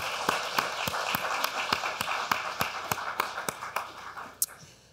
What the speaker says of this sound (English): Let's just give that another round of applause.